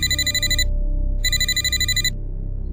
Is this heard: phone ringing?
yes